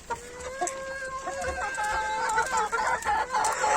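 Hens in a backyard coop cluck and call close by, drawn-out tonal squawks and short clucks overlapping in an uneven stream, with a rooster-like crowing note among them.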